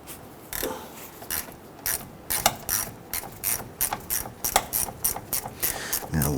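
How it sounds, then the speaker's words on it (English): A 1/4-inch hand ratchet with a 10mm socket clicks in quick, uneven bursts, sharp metallic ticks repeating close up as a rusted battery clamp nut on a Toyota Tundra is worked loose. "We're going to use our 10mm socket on a 1/4" ratchet."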